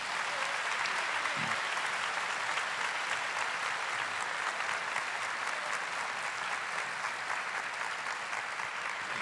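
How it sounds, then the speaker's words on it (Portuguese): A Catholic congregation applauds steadily, a thick, even wash of clapping that holds at the same level throughout without a break. "pode bater palmas para a Igreja de Deus."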